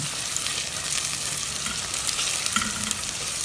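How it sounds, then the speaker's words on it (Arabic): Garlic fries in hot oil as the seasoning for an okra dish, making a loud, dense, continuous sizzle and crackle close by, with faint stirring. No one speaks. "هعمل الباميه بتاعتنا الطشه بتاعتها اهو"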